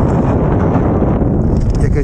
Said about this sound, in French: il y a un petit vent là qui souffle du nord